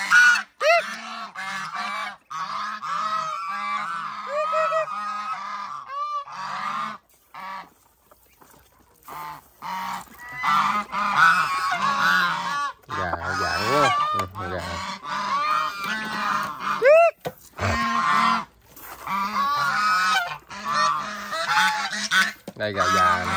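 A flock of geese honk loudly and repeatedly at close range during a morning feeding, the harsh calls overlapping in a continuous clamor with only brief lulls, and a voice is occasionally heard among them.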